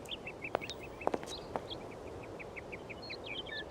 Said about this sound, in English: You mean the bird I'm hearing?